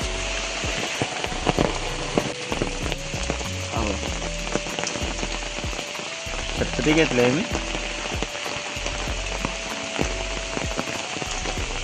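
Heavy monsoon rain in a Konkan village pours steadily onto a surface nearby, a dense constant patter, with a few brief words spoken and some background sounds underneath.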